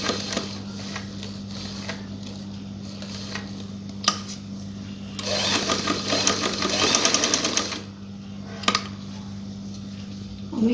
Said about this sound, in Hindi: डिब्बी के बिल्कुल किनारे पे हमने सिलाई लगानी है ब्लैक कलर के धागे से